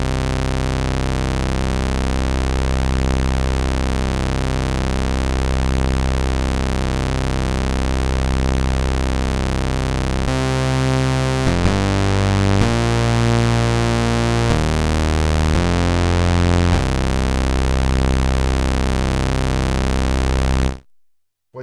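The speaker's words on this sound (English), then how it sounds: "What you heard is the raw tone of the saw oscillator." A raw, buzzy sawtooth synth tone holds steady and loud, shifting pitch several times partway through before cutting off abruptly at the end.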